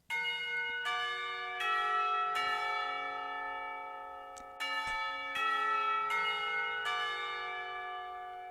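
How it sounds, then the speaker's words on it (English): Clock tower bells from the video game Katawa Shoujo ring out in a series of loud, resonant strikes, each one overlapping the lingering hum of the last, with no talking. "The clock tower bells ring, signaling the end of the period."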